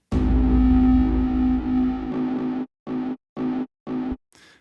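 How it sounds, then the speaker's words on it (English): Synth percussive sequence from an Omnisphere patch run through flame distortion: one long, gritty, sustained hit followed by four short, evenly spaced distorted stabs and a faint final tail, loud and alone. "the flame distortion makes it a lot grittier"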